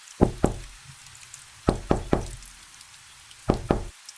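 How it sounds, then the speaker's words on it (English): Sharp knocking on an altar sounds in three quick groups of two or three hard raps, close and loud, with silent pauses between the groups. "But this time, the knocking was not beneath the floor."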